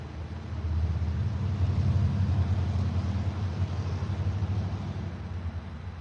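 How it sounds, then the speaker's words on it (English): Cars pass on a nearby road now exposed after the trees were cut down, giving a steady low rumble of traffic that swells and eases slightly, moderately loud with no talk over it. "Can you guys hear the cars as well? Cars are louder now that the trees have gone."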